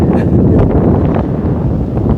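Steady wind buffets across the high-range hills of Idukki at sunset, a loud continuous rushing roar dominating the microphone with no pauses or talk.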